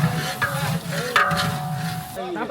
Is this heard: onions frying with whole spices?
yes